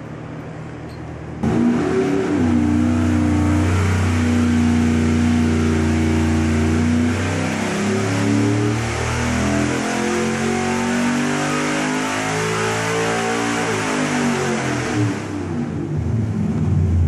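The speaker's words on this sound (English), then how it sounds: "We're going to make our final pull on the LS7 stock engine with headers, a carbon XR intake, and a Lingenfelter" A stock Chevrolet LS7 V8 on an engine dyno with headers, a carbon intake and a Lingenfelter GT17 cam makes a loud full-throttle pull, starting suddenly and climbing steadily in pitch for about fourteen seconds before cutting off.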